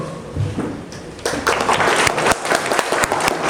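An audience applauds at the opening event of a 2023 Hongik University urban planning graduation exhibition, with sustained broadband clapping swelling to fuller strength after about a second and continuing steadily in an indoor hall.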